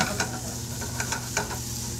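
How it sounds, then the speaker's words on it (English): Shrimp in coconut milk sauce stirred in a hot pan, a steady close sizzle with a few soft scraping stirs over it, brief and with no talk. "Mind if I stir the sauce?"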